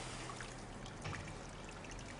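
Homebrew wort trickling down through the grain in a 20-litre Braumeister all-grain brewing system, a continuous soft stream of running liquid at low level with faint splashes.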